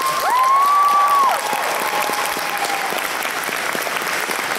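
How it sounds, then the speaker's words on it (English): A crowd at an anime convention closing ceremony applauds steadily, with a couple of high whistles cutting through at the start before the clapping carries on at a slightly lower level. "so let's give them a huge round of applause."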